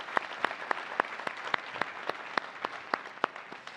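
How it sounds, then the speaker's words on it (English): Applause from the room at a youth awards show, steady rhythmic clapping with a few prominent nearby hand claps standing out above the crowd throughout. "A big round of applause to all 5,"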